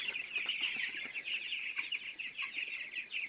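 Young chickens, around half a kilo each, cluck and chatter in a flock, a continuous busy mix of soft peeping and clucking calls at moderate distance.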